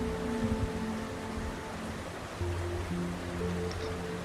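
Waterfall water flowing, a steady broadband rush with a low, continuous tonal hum running beneath it, alone with no voices.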